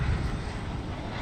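Airbus A380 engines at DFW airport at night, a steady broadband jet roar holding at moderate level throughout without any voices.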